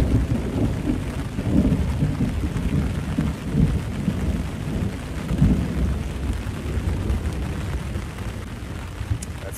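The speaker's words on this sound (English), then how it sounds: "That's some loud thunder." Heavy rain from Hurricane Helene pours steadily throughout in Yancey County, North Carolina, while deep rumbles of thunder roll in and out, loud and close, with no voices.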